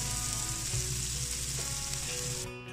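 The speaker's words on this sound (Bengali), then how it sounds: "এই পেঁয়াজটা আমি হালকা বাদামি করে ভেজে নিব।" Chopped onions frying in a pan for an egg korma, giving a steady, close, loud sizzle that runs without a break and eases off slightly at the end.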